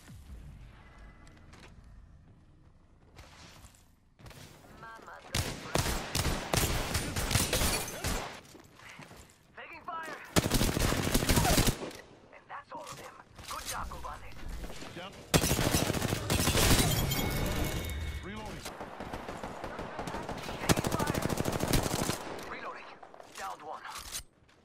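Rapid bursts of gunfire in the video game Apex Legends, loud and repeated in clusters with heavy booms, mixed with a player voice talking over the action.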